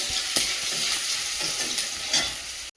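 Chopped ginger fries in a pan with a steady bright sizzle and a few soft stirring scrapes, close and moderately loud, with no voices, before cutting off abruptly.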